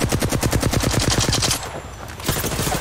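Rapid automatic gunfire from a firefight in the battle royale game Apex Legends, a loud sustained burst of fast repeated shots that briefly pauses and then resumes.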